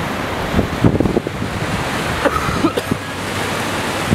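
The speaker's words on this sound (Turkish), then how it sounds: "kanka denizde bugün hırçın. Karadeniz denizi var." Rough Black Sea waves wash and crash continuously onto the coast, a loud, broad surf roar with wind buffeting the microphone and a few sharper splashes on top.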